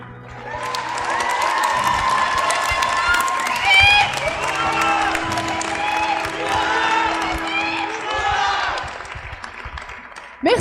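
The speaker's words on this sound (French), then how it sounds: "Oui, tu peux applaudir, David, si tu veux." Audience applause and cheering at the end of a theatre revue show, dense sustained clapping with whoops and shouting voices from a large crowd, loud and continuous for about ten seconds.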